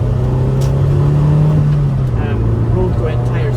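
A 1998 MGF on Yokohama road tyres drives over a wet, greasy road, its engine a steady near drone with a faint hiss of wet tyres, the pitch easing slightly midway.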